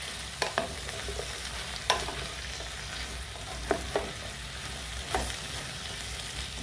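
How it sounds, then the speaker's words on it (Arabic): A chicken and vegetable mixture is stirred in a frying pan over a steady low sizzle, with occasional scraping strokes of the utensil against the pan, close and fairly quiet, with no talking. "صافي نبقى هكا مره نحرك حتى يتبان ليا هذا الخليط."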